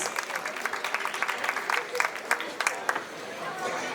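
An audience applauds to welcome a speaker at the opening ceremony of a school Model UN event, a steady patter of many hands clapping that thins out toward the end.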